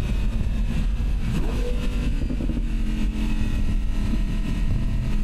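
Audi R8 V10 Spyder engine on a track, a loud continuous roar that rises in pitch as the car accelerates, heard close and steady throughout with no talk.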